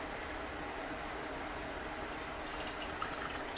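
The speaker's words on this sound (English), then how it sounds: "I'm putting water in my canner and getting ready to can up the pasta sauce" Tap water pours steadily into a metal canner being readied for canning pasta sauce, a continuous even rush with no pauses and no voices.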